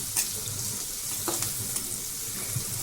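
Garlic paste sizzles and fries in a pan, with a steady soft crackle and a few brief clinks of a spoon near the start and middle, and no voices.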